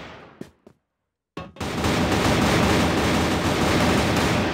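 Machine gun fire in CrossFire during a competitive esports match: a few short sharp shots, a moment of silence, then loud, dense, sustained automatic fire that continues to the end.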